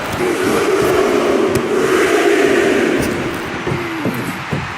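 Arena crowd in the WWE 2K25 wrestling video game, during a Roman Reigns vs Rhea Ripley match, roars in a steady, loud, dense wash of cheering that holds throughout, with a few sharper impacts near the end.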